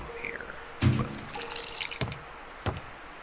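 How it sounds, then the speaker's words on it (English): Kerosene poured into a torch in the game Scratches, heard as a short run of liquid splashing and dripping, close and fairly quiet, with a voice talking over parts of it. "So you pop a hole in it with this thing, and then you pour it into here"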